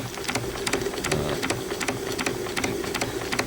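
A walnut hardwood Watt-style beam steam engine from 1853 runs steadily, its rapid, regular clicking and hissing strokes repeating close by over a constant mechanical whir, with no talking.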